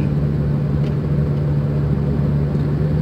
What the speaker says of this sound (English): Driving around.